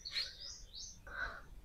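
Birds chirp outdoors among trees, with a few bright, fairly near calls in quick sequence over a quiet, low background rumble.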